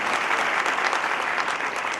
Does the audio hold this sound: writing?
no